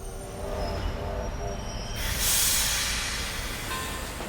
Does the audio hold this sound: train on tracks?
yes